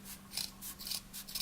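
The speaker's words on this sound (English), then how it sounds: "just keep control over the scissors, because you don't want to cut a finger." Scissors snip through fabric rags for a ghost garland, producing several crisp rasping cuts in a quick, regular rhythm, close and fairly soft with no talk.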